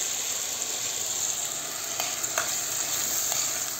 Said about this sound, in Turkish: Burada fasulyem pişiyor.